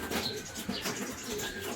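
A racing pigeon coos softly at close range, a few low murmuring calls over a busy loft background.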